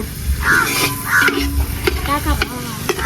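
Ginger paste sizzling and frying in a pan for vegetable biryani, with steady loud crackle and repeated stirring scrapes throughout, no talk over it.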